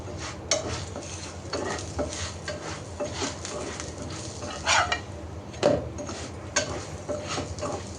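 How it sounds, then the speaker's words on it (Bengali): Potato parathas fry in a pan with a soft steady sizzle, broken by occasional scraping and clinking of a spatula against the pan, close and fairly quiet. "তো এক একটা করে সবগুলো পরোটায় আমি ভেজে নিচ্ছি।"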